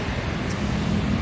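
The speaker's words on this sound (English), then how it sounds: "There's a lot of traffic." Street traffic rolls past as a steady, broadband roadway rumble with a windy hiss, constant and fairly loud for the whole short stretch, with no distinct horns or single passing vehicles standing out.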